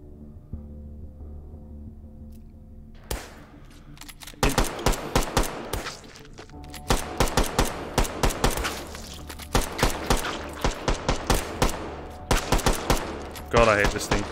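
Repeated gunfire from a weapon in the VR shooter H3VR, fired in uneven bursts of sharp shots that grow denser and louder, with a quieter stretch of low background sound before the firing starts.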